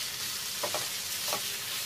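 Three-colour bell peppers go into tomato purée sautéing in oil for a kid's cheesy bell pepper rice, giving a steady close sizzle broken by two short scraping stirs.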